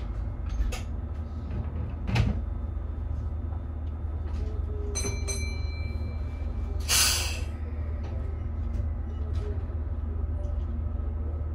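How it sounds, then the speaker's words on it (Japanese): Doors closing on a Meitetsu Panorama Super rapid limited express train in cab-view running, with a clunk and a sliding thud against a steady low rumble of the train and a few clicks and chimes. "ドアを閉めます。 ご注意ください。"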